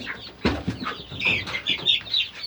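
An Orpington hen clucks in short, choppy bursts, close by, with some rustling and a few sharper squawks mixed in.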